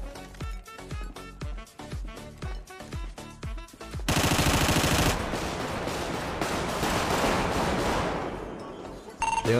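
Gunfire in GTA V: a run of evenly spaced sharp single shots, then a loud continuous burst of rapid automatic fire that trails off before a final shot.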